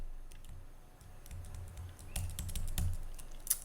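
Quick typing on a computer keyboard while editing in Vim, a fast run of close, crisp key clicks with a few louder taps near the end, and no voices.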